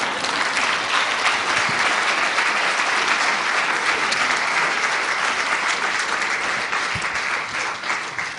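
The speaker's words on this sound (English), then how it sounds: "Give him another round of applause." An audience applauds speaker John Lees after his talk on motivation and sales leadership, sustained loud clapping filling the room without a break.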